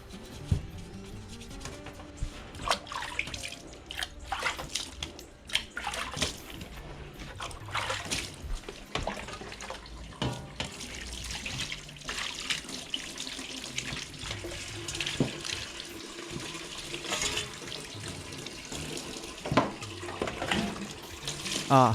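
Running water from a tap splashes steadily over a scrubbed opossum carcass in a sink, with wet rubbing and irregular splatters continuing for about twenty seconds.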